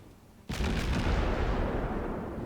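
A naval gun blast erupts in the World of Warships game, a sudden loud boom followed by a long rumbling roar that fades slowly, alone with no talking.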